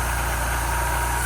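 A supercharged Mazda Miata engine runs roughly with a steady low rumble and faint rhythmic pulsing, loud and near, with no voices.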